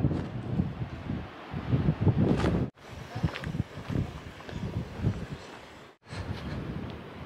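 Gusty wind buffets the microphone on a coastal walk along the Cleveland Way between Whitby and Scarborough, a loud low rumble that rises and falls continuously, broken by two brief drops to near silence.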